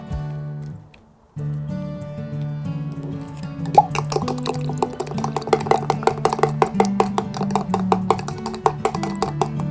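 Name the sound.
stirring sodium alginate into juice vigorously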